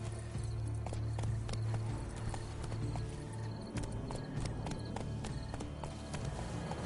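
Horse hooves clip-clop steadily while riding through large gardens in The Witcher 3: Blood and Wine, a continuous galloping rhythm over a low ambient hum, with no talk.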